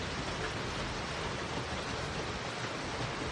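Heavy rain storm pouring down in a dense, steady broadband roar that holds at constant loudness throughout, with no voices over it.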